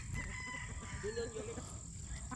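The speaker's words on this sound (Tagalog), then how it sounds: "May natilaok na." A rooster, kept among brood cocks and breeders, crows once in a drawn-out call over a steady farmyard background, moderately close and alone without talk.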